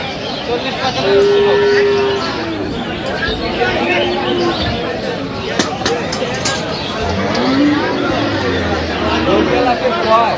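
Dairy cows and calves at a livestock market in Sylhet give a few brief, low moos, half-buried under constant crowd chatter and nearby people talking.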